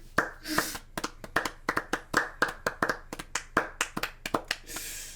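Sharp, isolated hand claps from an anime episode, about twenty distinct slaps in an uneven rhythm, close and crisp against a quiet background with no talking.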